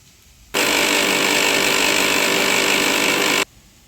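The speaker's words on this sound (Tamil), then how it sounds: "மிக்ஸி ஜாரில் போட்டு அரைச்சிருவோம்." A mixer grinder grinding roasted spices starts abruptly and whirs loudly at a steady, harsh pitch for about three seconds, then cuts off sharply into quiet.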